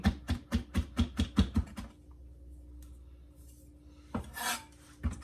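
Knife finely chopping fresh parsley on a board, about a dozen quick rhythmic cuts, then a short pause, a scraping rub and a couple more chops, with no voices.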